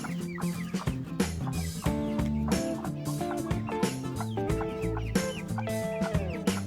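A broody hen clucks in repeated low, throaty bursts close by, the calls dense and continuous across the stretch with no talking over them.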